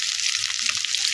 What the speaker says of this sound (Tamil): ஆயில் விட்டு வெண்டைக்காயும் வாழைக்காயும் வதக்கணும்